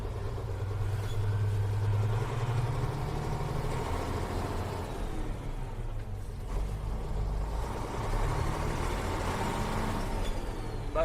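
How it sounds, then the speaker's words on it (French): Old Volvo truck engine, an N88, F88 or F89 collector truck, idling with a steady deep rumble and low drone throughout, fairly loud and continuous with slight variations. "C'est vraiment le son du camion."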